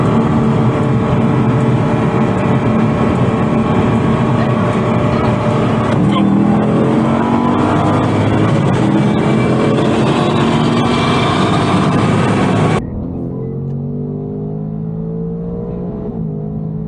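A 2024 Ford Mustang races from a 60 mph roll to 140, its engine roaring loud and close as it accelerates hard through rising gear pulls, then drops to a quieter, lower drone near the end.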